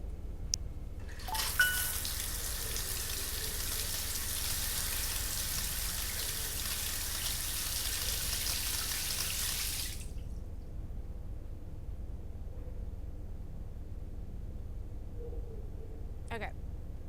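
A shower runs in Happy's Humble Burger Farm, a steady hiss of falling water for several seconds that cuts off cleanly, followed by quiet with a faint click.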